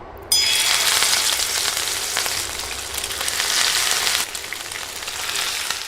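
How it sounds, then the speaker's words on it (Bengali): Fish pieces drop into oil heated on high in a pan, setting off a sudden loud, crackling sizzle that continues strongly with no talking. "তেল ভালোভাবে গরম করে এখন মাছের পিসগুলো দিয়ে দিচ্ছি"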